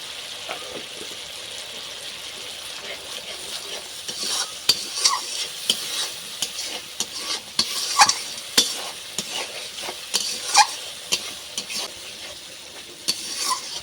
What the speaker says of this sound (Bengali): তো মশলা আমার খুব সুন্দরভাবে কষে গেছে